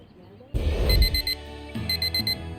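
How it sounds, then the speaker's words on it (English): An alarm clock in a bedroom in the game Date Z rings in a loud, insistent burst of repeated beeping tones, pausing briefly and then starting again, with low background rumble. "The alarm clock in your room does its best to keep you from missing your first day of school."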